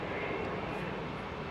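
A large jet landing on the right-hand runway at London Heathrow produces a steady, distant engine roar that stays even throughout.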